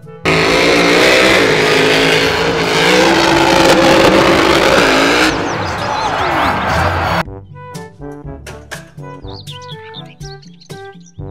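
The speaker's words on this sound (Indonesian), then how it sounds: "Mobil truk monster." A monster truck engine revs loudly and continuously for about seven seconds, then gives way to a series of short chirpy, tonal bursts.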